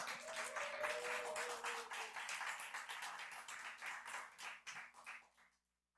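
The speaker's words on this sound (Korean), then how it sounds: "우리 나오실 때 큰 박수 부탁드리겠습니다" Audience applause in a church hall as a young teen speaker comes forward: steady, moderately loud clapping from a gathered congregation, thinning out and stopping near the end.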